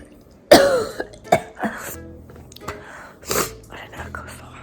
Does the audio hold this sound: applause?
no